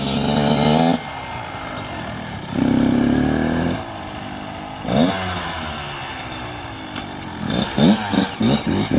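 A Kawasaki KX112 supermoto dirt bike revs in a yard, its small engine buzzing loudly in surging bursts, dropping to a steady idle between aggressive throttle blips.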